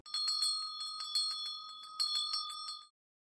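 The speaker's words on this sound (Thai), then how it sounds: "นี่คือ เสียงกระดิ่ง ของรถไอศกรีม" A Thai ice cream truck's handbell: rapid bright ringing in quick rhythmic bursts for about three seconds, close and clear, with no talk, then silence.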